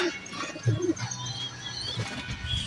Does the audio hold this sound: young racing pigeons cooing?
yes